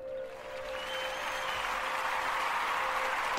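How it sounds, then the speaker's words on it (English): A theater audience applauds an actress from a stage show, a steady wash of clapping that builds slightly and holds throughout, with a faint sustained tone beneath. "let me give a round of applause for her"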